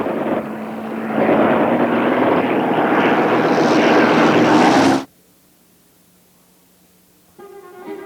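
A World War I triplane engine roars loudly and close, rising in intensity as the plane dives toward the ground, then cuts off abruptly, leaving a faint low hum before another sound begins.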